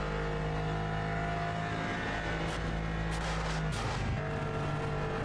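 GT3 race car engine in Automobilista 2 holding a steady, sustained drone that rises and shifts tone as it accelerates, with brief louder surges mid-run and no talk over it.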